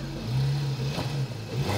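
A Porsche GT3 engine revs in short rising bursts as the car accelerates, a close, buzzing drone that climbs, dips and climbs again, with no talk over it.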